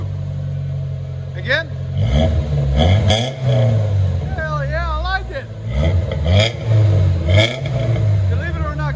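A 1984 BMW 318i with a Flowmaster Super 10 exhaust revs hard in repeated loud bursts, rising and falling close by, while people talk over it.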